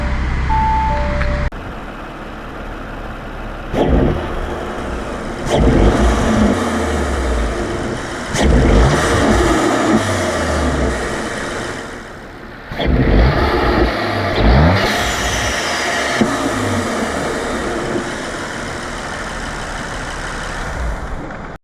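Audi RS5 with a new intake and a Stage 1 acceleration package, engine revving and accelerating in several loud bursts with gear changes between them, close by, no talking.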